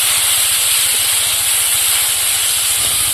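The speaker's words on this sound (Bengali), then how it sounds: "হালকা একটু জল দিয়ে দেবো, মশলাটা যাতে পুড়ে না যায়।" Masala with chili paste sizzles and hisses steadily in a hot pan as a little water is added, a loud, continuous steamy spray of sound with no talking.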